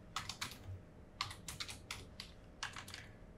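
Keys are tapped on a computer keyboard in quick uneven clusters of sharp clicks, close and fairly quiet, with short pauses between bursts in a quiet room.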